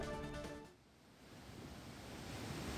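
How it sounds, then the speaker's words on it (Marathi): The Sahastrakund waterfall roars in flood after heavy rain as a steady, broad rushing wash of water. A brief tonal sound fades out at the start, then the roar carries on alone. "पावसामुळे सहस्त्रकुंड धबधब्याला अकराळ विक्राळ रूप आले"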